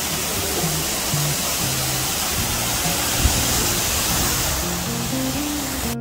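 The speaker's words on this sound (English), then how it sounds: "Close-up view of the waterfall." An indoor waterfall in the hotel atrium of the Hyatt Regency Waikiki in Honolulu pours with a constant, loud, close rush of falling water, and no voices are heard.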